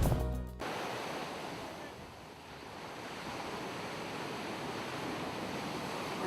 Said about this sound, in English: Now we head to the beach.